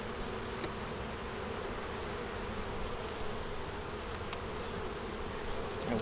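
Honeybees hum in a steady, dense, moderately loud drone throughout a winter hive inspection, with no voices over it.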